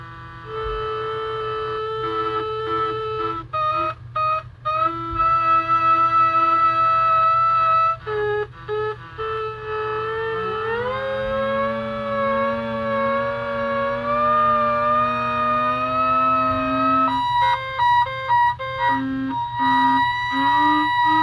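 An Arduino-based light synth droning in sustained electronic tones with a fundamental and harmonics, pitches stepping and gliding as shadows fall on it, steady and fairly loud with brief stuttering cutouts throughout.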